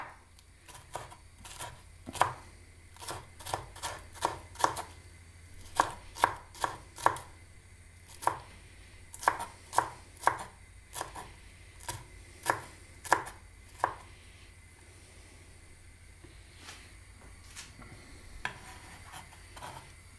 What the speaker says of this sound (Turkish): biberimizi doğruyoruz.